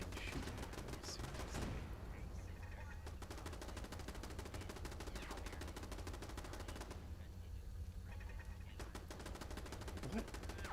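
Gunfire in Fallout 4: dense, continuous rapid bursts of automatic fire, fairly faint and distant, running almost without a break, with a voice talking occasionally over it.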